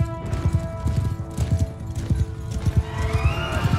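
A horse in the medieval battle game Mount & Blade 2 Bannerlord gallops with rapid clip-clop hoofbeats and lets out repeated loud neighs and whinnies, close and prominent, amid battlefield noise.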